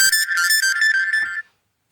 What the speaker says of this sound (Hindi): फोन आ रहा था बार बार